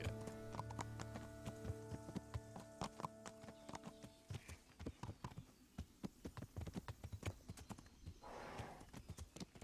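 Horse hooves clip-clop in a steady walking rhythm, close and clear, with a brief whinny near the end and faint game-like tones early on, from the video game Kingdom Come: Deliverance.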